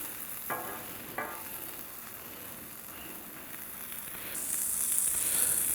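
Shrimp and sausage sizzle on a Blackstone griddle in a steady, close frying hiss, with a couple of brief scraping clicks early and the sizzle growing brighter and louder toward the end.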